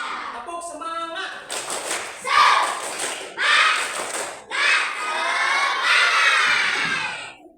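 Children clap a rhythmic group cheer, the Indonesian "tepuk semangat", in bursts of patterned claps mixed with shouted chanting from the crowd, fairly loud and close.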